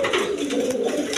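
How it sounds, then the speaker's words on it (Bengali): A big pair of American fantail lakkha pigeons, one jet black, give a close, loud, continuous throaty cooing with a rolling rhythm. "এখানে এক পেয়ার লক্ষা কবুতর আছে, আমেরিকান ফ্যান্টাল লক্ষা কয়, একদম বিগ সাইজের"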